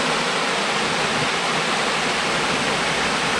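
Mountain water rushing through a stream in the woods, a loud, continuous broadband roar heard close by, steady and unbroken with no voices.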